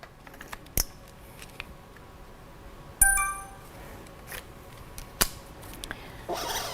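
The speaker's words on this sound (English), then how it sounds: "And the receipt got printed out" A Clover point-of-sale receipt printer at a restaurant gives one short, fairly quiet whirring buzz as it prints, surrounded by sparse light clicks and taps in an otherwise hushed room.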